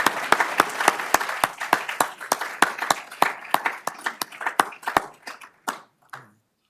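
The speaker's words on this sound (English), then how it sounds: "we can now have a round of applause." Applause from the audience at an architecture design awards ceremony, a run of sharp, evenly spaced claps that gradually thin out and stop, with no talking.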